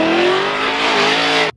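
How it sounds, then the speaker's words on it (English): A modified Mazda Miata engine revs hard and close, a loud, raspy tone whose pitch climbs steadily before cutting off abruptly at the end. "It's a Mazda Miata."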